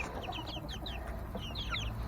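Backyard chickens cluck and chirp in a repeated scattered pattern, soft and somewhat distant over a steady background hiss, with no talking.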